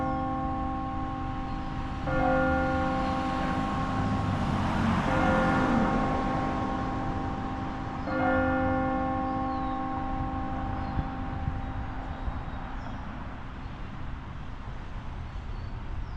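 A church bell tolls twelve times for noon at a steady, slow pace, its ringing tones lingering, with faint traffic noise in the background.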